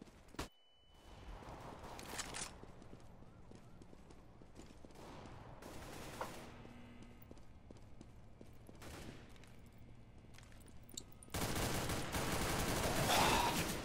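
Weapons fire in a Counter-Strike: Global Offensive training session, with scattered faint shots and clicks over a quiet room tone, then a sudden louder, rapid burst of automatic gunfire near the end.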